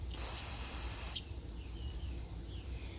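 A loud aerosol hiss of carburetor cleaner sprays steadily for about a second onto a Briggs mower carburetor, then cuts off, leaving a quieter background with a few faint squeaks.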